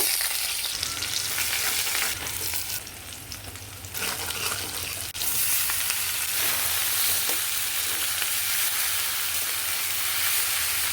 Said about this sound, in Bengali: এখন শাকটা ভাজি করব